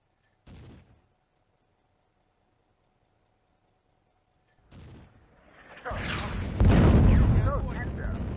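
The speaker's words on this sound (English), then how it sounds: "The German guns and mortars fire for effect." German guns and mortars fire in the Eastern Front war game Firefight: two isolated dull thuds separated by quiet, then a heavy, loud, rumbling barrage that swells and continues to the end.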